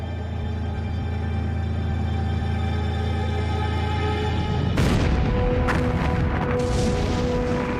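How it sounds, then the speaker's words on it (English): World War II artillery guns open fire at the battle of El Alamein, a steady low rumble suddenly erupting into loud, dense booming blasts and crackling bursts that continue close and heavy to the end. "Suddenly, the guns opened up."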